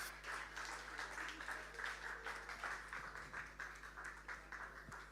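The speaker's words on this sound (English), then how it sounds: "Keep those applauses going, guys." Audience at a literary festival storytelling performance keeps up a steady, moderately distant round of applause for an arriving speaker, with a low hum underneath.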